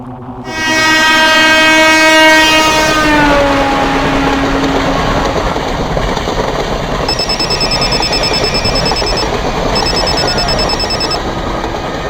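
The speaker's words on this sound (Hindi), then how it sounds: "ट्रेन में हूँ अब्बू, घर आ रहा हूँ।" A passenger train rolls along loudly and close, its horn blaring for a few seconds and dropping in pitch as it passes, followed by steady wheel-and-track rumble with a ringing warning bell in the background.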